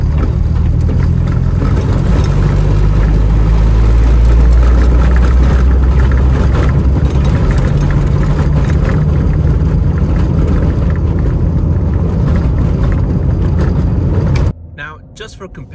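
Loud, continuous road noise inside a small Honda Civic driving down a rough road, a dense rumbling roar that holds steady for about fourteen seconds before cutting off abruptly.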